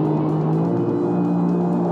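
Sea-Doo RXP-X 325 jet ski from 2024, accelerating on water: a loud, steady engine roar with a sustained droning tone, close and continuous throughout.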